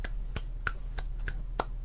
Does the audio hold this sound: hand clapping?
yes